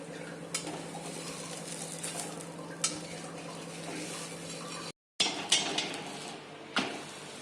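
A sabudana paratha cooks in a pan while being flipped, giving a soft background sizzle with clinks and scrapes of a utensil against the pan, a brief silent gap near the end, then more scraping.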